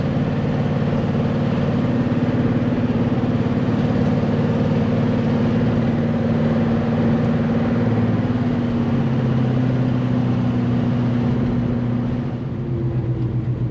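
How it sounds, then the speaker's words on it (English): A Chevelle with a newly installed transmission drives with a continuous loud engine drone inside the car, its pitch stepping and shifting as the gears change. "Those are definitely positive, firm shifts."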